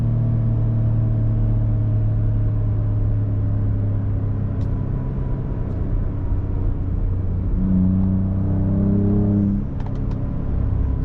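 A 2024 Ford Ranger Raptor's engine hums steadily at a held RPM in fourth gear, a loud, even drone with constant harmonics, rising briefly in pitch near the end, with no talk.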